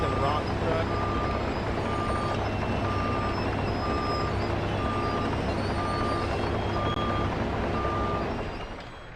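Reversing beeps from a rock truck in the Farming Simulator 25 video game, a steady regular series of tones over a loud continuous heavy engine drone that fades at the very end.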